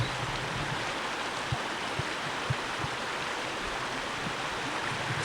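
A large creek swollen in spring rushes past in a steady, broad roar of flowing water, with a few faint low knocks beneath the constant wash.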